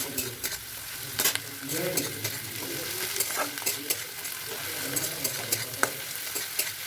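Spicy semolina (suji) is stirred and fried in a pan, with a continuous close sizzle broken by repeated scraping strokes of a spoon against the pan at an irregular pace.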